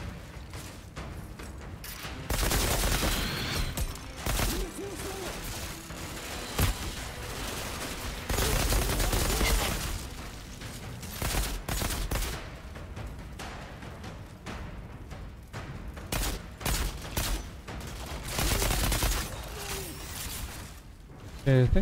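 Rapid gunfire from a heavy-recoil weapon in the shooter game Outriders, loud bursts of shots repeating in uneven volleys throughout, with someone talking over the shooting.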